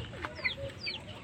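A sick chicken clucks softly in a coop, a few short close clucks and squawks in quick succession over a low background murmur.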